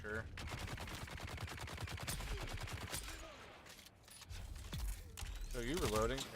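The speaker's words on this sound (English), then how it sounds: "Are you shooting me?" Rapid gunfire from weapons in the survival game Dune: Awakening, with bursts of automatic shots up close and a person talking over the shooting.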